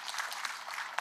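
A short burst of crowd applause at a public security forum in Siaya Town, Kenya, steady clapping from many hands at moderate distance.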